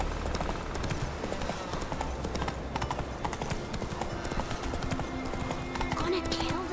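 Roach, a horse in The Witcher 3, trots with steady clip-clop hoofbeats that run continuously throughout, mixed with ambient game sound and a brief whinny, under intermittent talk.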